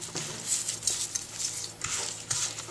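Close, wet squelching and slapping comes from a hand rubbing oil, salt and pepper over a raw sirloin steak in a kitchen, in uneven strokes with soft patters between. No one speaks.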